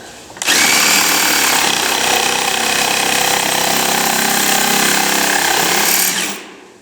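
A power tool cuts steadily through a piece of a wooden whiskey barrel: one continuous loud buzzing, rattling drone that starts abruptly, holds for about six seconds and then winds down, very close, with no talking.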